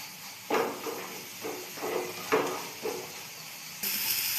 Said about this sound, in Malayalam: ഉള്ളി നല്ലോണം വഴണ്ടിട്ടുണ്ട്